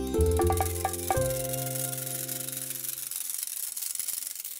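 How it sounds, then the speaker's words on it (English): A whisk beats butter, sugar, a whole egg, an egg yolk, milk and vanilla together in a bowl, a close, soft scraping and rubbing that follows a few brief tonal notes at the start. "Now I'm going to beat them with a whisk."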